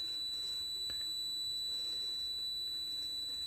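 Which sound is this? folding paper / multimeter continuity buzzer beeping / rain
multimeter continuity buzzer beeping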